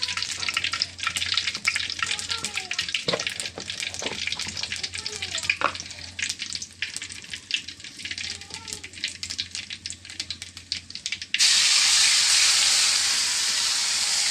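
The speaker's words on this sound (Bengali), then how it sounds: "কালি জিরা গরম হচ্ছে, দেব জিরা বাটা" Nigella seeds crackle and spit in hot oil with dense, close frying noise and scattered ticks and scrapes, then cumin paste goes in and the sound turns to a louder, even, hissing wash; a voice is faintly present in places.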